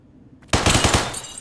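Video game gunfire bursts in abruptly after a near-silent moment, a rapid, loud volley of about five or six shots in close succession, then fading into a short tail.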